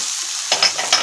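Garlic and peppers sizzle and crackle in a frying pan, a steady hiss with a few brighter bursts as they are stirred, close and fairly loud, without speech.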